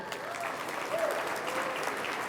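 Steady applause from a crowd at a consulate grand opening reception, continuous and even throughout, fairly close, with no voices on top.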